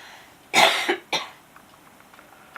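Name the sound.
coughing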